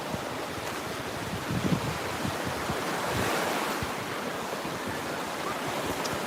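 Surf rolls onto a quartz-sand beach on the Gulf with shallow sandbars offshore, a steady broadband wash of breaking waves mixed with gusty wind buffeting the microphone, continuous and fairly loud throughout with no voices.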